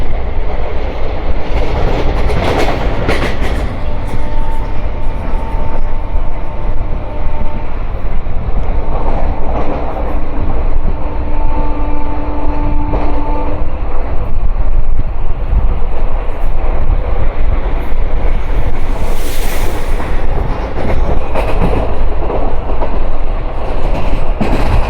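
Steady loud rumble of a train carriage rolling through without stopping at a small station, with rhythmic clickety-clack of wheels over rail joints and wind buffeting the microphone throughout; no voices.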